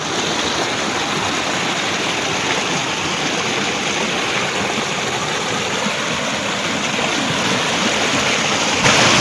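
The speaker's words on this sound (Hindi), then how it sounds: "केते कुलु कुलु पानी रो शब्द" The steady, loud rush of a stream at a hidden jungle waterfall, Karanja Nala, a dense, continuous roar of gurgling water heard up close without any voices.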